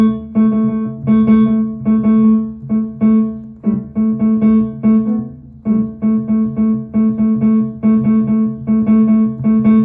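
Piano playing a short waltz quickly, with rapid repeated chords and notes pulsing in a steady, loud, close rhythm that breaks briefly midway before resuming, with no talk.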